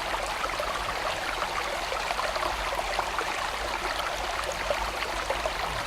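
A stream in autumn countryside in Dalsland, Sweden, running through a channel beneath a bridge, giving a steady, even broadband rush of flowing water that holds constant throughout, with no voices.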